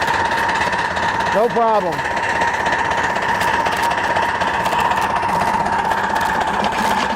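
A live-steam model locomotive runs by itself on steel rail, giving a steady mechanical hum and chuffing drone with a brief rising whistle-like sweep, loud and close, while someone talks.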